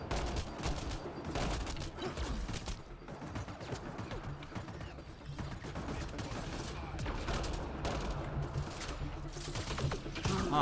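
Turret fire in the sci-fi shooter Mass Effect Andromeda, a long run of rapid repeated shots in uneven bursts, steady and fairly quiet, with mechanical clanks among the volleys.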